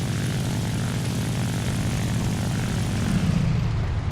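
A propeller fighter's piston engine in War Thunder drones loudly and steadily, a dense near roar with a deep throb that swells slightly toward the end.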